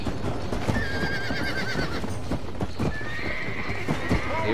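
Wild horse in the Western video game Red Dead Redemption whinnies loudly twice amid a steady clatter of galloping hooves, the calls rising and wavering over the rhythmic clip-clop.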